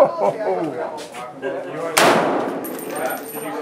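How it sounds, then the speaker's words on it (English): A brand-new FN SCAR Heavy rifle fires a single loud, sharp shot with strong muzzle blast at an outdoor range in Arizona, followed by a long fading echo, with people talking before and after. "First round out of a brand new gun. Whew, some serious muzzle blast."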